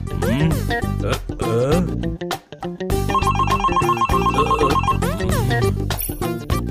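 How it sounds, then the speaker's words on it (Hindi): Cartoon telephone ringtone chiming in repeated bursts over lively background music and sound effects, loud throughout with a short dip midway. "फिर फोन कैसे बज रहा है?"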